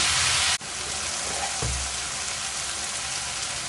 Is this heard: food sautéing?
yes